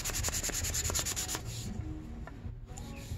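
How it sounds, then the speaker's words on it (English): A wooden tiller being hand sanded in spots, giving a close, steady rubbing scrape in quick strokes that slows and thins out after the first second and a half. "Let's sand these spots."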